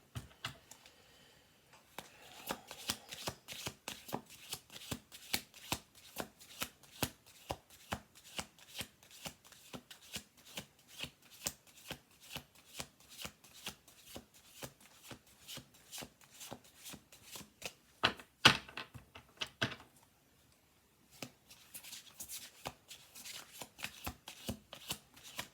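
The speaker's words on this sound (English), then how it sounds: "Okay, we're going to do 2 more shuffle throughs." An oracle card deck is shuffled by hand in a quiet room, producing rapid, repeated riffling bursts and soft taps, close and crisp, with a brief pause near the end.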